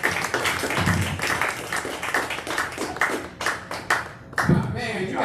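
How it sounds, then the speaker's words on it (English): An open mic audience at a coffee shop claps for a comedian, giving lively, near applause of many hands. A voice talks over the clapping throughout. "Give him another round of applause then"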